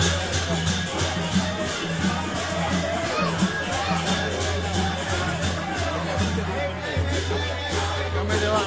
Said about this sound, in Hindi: प्रचुर भीड़ बाप रे बाप।